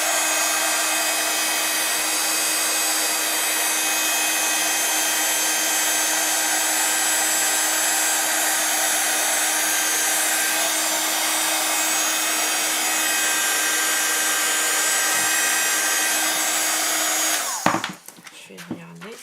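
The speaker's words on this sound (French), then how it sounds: "chauffer mon pistolet chauffant" A heat gun blows hot air over a watercolour card, a steady close-up whooshing roar with a faint whine that holds level for about seventeen seconds, then cuts off into a few soft clicks and handling sounds.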